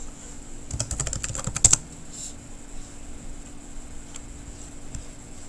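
Typing on a computer keyboard: a quick run of close, crisp key clicks for about a second, then a few scattered single taps in a quiet room, no talk.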